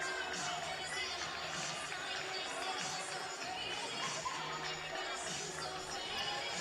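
A home crowd at a girls' varsity high school basketball game fills a gym with a steady, far-off wash of chatter and murmur, and a few brighter shouts rise from it.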